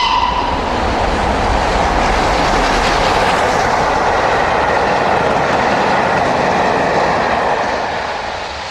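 A King Arthur class British steam locomotive hauls a train on the main line at Surbiton in December, with a loud, sustained rumble and rolling rail noise that fades slightly as it passes.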